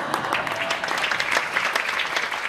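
Audience applause at a stage show where a comic performer appears with four dancers, a steady dense clatter of clapping hands filling the whole stretch at moderate level, with no voices standing out.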